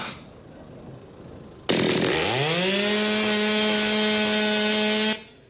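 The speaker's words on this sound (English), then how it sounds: "can I borrow your chainsaw?" A chainsaw roars to life abruptly and holds a loud, steady high-revving drone for several seconds before cutting off.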